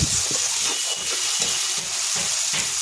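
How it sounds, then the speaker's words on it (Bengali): Pumpkin and potato pieces dropped into hot oil in a pan sizzle loudly and continuously, a dense close hiss with faint rhythmic stirring pulses throughout. "তেল ছেড়ে গেছে, এবার কুমড়ো আর আলু দেবো।"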